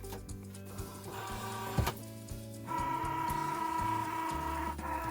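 A Cricut Joy cutting machine loads a sheet of cardstock, giving a steady mechanical whir with clicks and a brief thump, running close by and alone with no talk.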